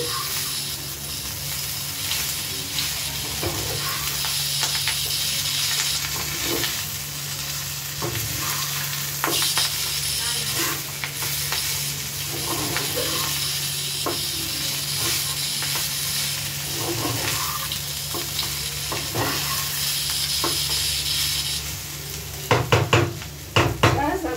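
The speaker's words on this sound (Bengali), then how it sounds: "ধনে পাতাগুলো আমি দিয়ে দিচ্ছি। আবার ভালো করে হালকা হাতে নেড়ে নিচ্ছি।" Fish stomach curry with coriander leaves is stirred gently in a hot pan: a continuous sizzle and hiss with repeated light scrapes of the spoon, ending in a brief louder clatter of the pan.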